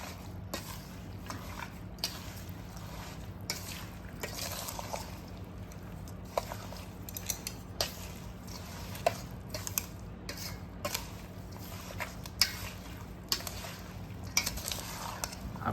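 A spoon stirs and mixes jaggery mango pickle ingredients in a pot, giving soft, irregular scraping and clinking taps over a steady low hum, quiet and close.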